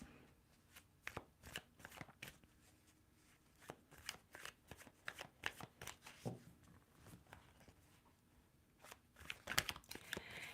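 Tarot cards being shuffled by hand, a series of soft, close riffling and flicking bursts in irregular clusters, fairly quiet with pauses between.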